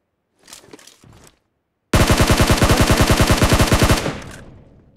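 Automatic gunfire in PUBG Mobile: a few scattered shots, then a loud, rapid sustained burst of about two seconds with an evenly spaced rattle, trailing into echoing decay.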